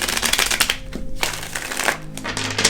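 Tarot cards riffled and shuffled by hand in a steady run of crisp, papery flutters and soft taps, close up with no voices.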